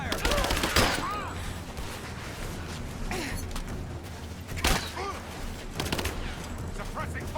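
Rapid bursts of gunfire crackle through a Rise of the Tomb Raider firefight, with several loud volleys over a dense, steady battle din.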